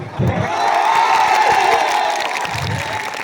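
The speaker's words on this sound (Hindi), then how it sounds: "तालियों की गड़गड़ाहट थोड़ी कम है" Audience at a meet-up applauding and cheering, a sudden swell of clapping and voices that holds steady for a few seconds before easing off, loud and close.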